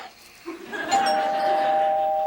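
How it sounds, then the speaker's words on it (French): A customised doorbell chimes with a sustained ringing tone, steady and fairly loud in an indoor setting after a brief rustle. "la sonnette de porte personnalisée à cette heure"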